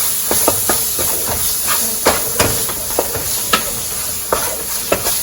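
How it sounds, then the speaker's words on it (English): Ground beef with taco seasoning frying and being stirred in a pan, giving a steady close sizzle and hiss broken by repeated scraping, clicking stirs. "Now I'm going to go ahead and take a pack of taco seasoning. And just going to cook that in there real quick."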